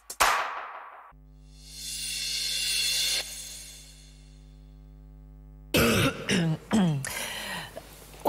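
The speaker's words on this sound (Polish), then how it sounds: "Ja mam nadzieję, że nie słyszeli państwo na dzień dobry tego kaszlu." A broadcaster on a Polish morning radio show coughs hard and clears his throat near the microphone, first a short burst, then a sustained rasp, then a cluster of sharp coughs.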